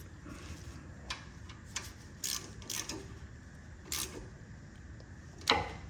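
A ratchet clicks in short bursts while tightening brake caliper bolts on a 2012 Jeep Wrangler during a rear brake pad job, quiet and close, with faint mechanical ticks and a few sharper metallic clicks.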